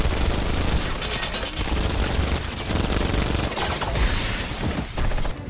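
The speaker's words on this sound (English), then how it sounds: "They've got chain guns!" Chain guns fire in an action movie, Captain America: The Winter Soldier, as loud, dense automatic bursts with booming impacts that keep going without a break.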